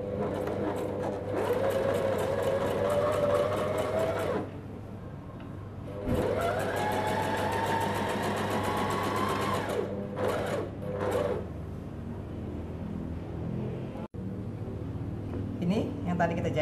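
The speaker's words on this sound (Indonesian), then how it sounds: "baru kita mulai jahit ya" A sewing machine stitches children's pajamas in bursts of fast, steady mechanical whirring, close and clear, pausing between runs.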